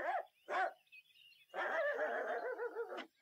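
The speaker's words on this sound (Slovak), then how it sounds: "štekaj, nech utečú" A dog in a 1964 Russian fairy-tale film barks twice in short sharp bursts, then lets out a longer sustained run of yelping and whining, fairly close and loud, with no talk over it.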